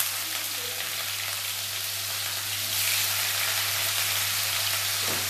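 Chopped onion fries in hot oil in a pan for semolina upma, a dense, even sizzle held close and fairly loud throughout, with a steady low hum beneath.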